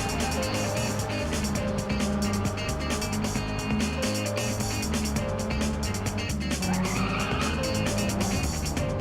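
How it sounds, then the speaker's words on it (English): Car drifting in Ridge Racer Type 4 with tire squeal over a continuous roar of engine and game music, a rising screech building near the end, loud and steady throughout. "That was a bad drift."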